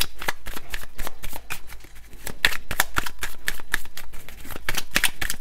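Cards being shuffled for a card-reading draw make a steady run of crisp riffles and flicks, close and continuous, with brief pauses between passes.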